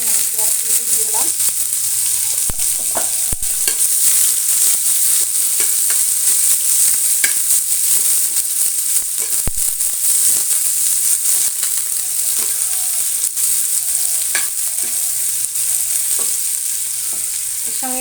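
Chopped onion fries in hot oil with bay leaf, giving a loud, steady sizzle that runs unbroken throughout, with occasional soft scrapes and taps of a spoon stirring the pan.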